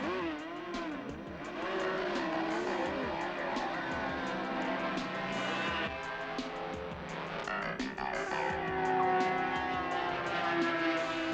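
Sidecar racing outfits, three-wheeled motorcycle platforms, howling around a public road circuit at Easter Bathurst in 1981, engines loud and continuous with rising and falling revs as machines pass close by.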